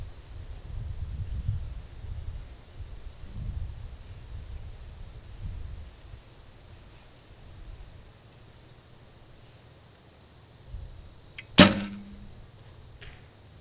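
Bow fitted with a Beiter V-Box stabilizer and number 5 damper ring fires a single sharp, loud shot near the end after quiet outdoor wind rumble, the release snapping briefly and fading fast.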